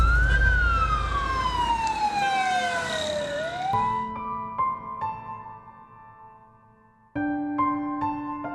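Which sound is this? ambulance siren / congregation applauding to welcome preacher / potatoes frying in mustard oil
ambulance siren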